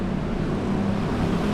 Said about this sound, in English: that was a very loud motorcycle